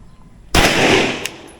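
A single sharp gunshot at an outdoor shooting range in Norzagaray, Bulacan, Philippines, very loud and close, hitting suddenly and trailing off in a short reverberant tail, with a faint smaller crack just after.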